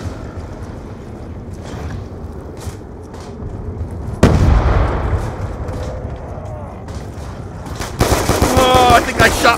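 Bursts of automatic gunfire and heavy booms in the shooter Black Ops 2, loud and close, with scattered shots, a sharp blast midway and someone talking over the action.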